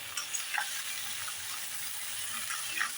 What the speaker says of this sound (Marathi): आता या भाज्या सर्व आपण परतून घ्यायचं आहे